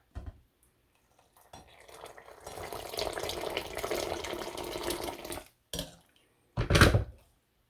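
A tap runs in short bursts, water splashing into a sink with a few dish clatters, stopping and starting.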